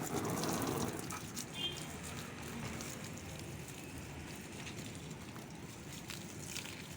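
Orchids watered by hand in dry weather, a steady close spray of water hissing and pattering over leaves and pots, with a soft bird call in the background.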